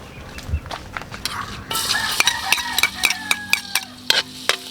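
Garlic frying in a pan: a steady crackling sizzle with repeated metallic scrapes and clinks from stirring, the spatula hitting the pan at a fairly regular rhythm, close and moderately loud.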